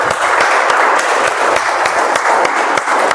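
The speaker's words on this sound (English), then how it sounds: "let's give a big round of applause" Round of applause from a small group at a meeting, a brisk patter of many hands clapping close and loud for a few seconds without pause.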